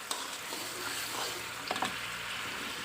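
Sugar and tamarind juice simmer together over low heat in a pan, a steady gentle sizzle and bubbling with a few soft stirring clicks near the end, close and without speech.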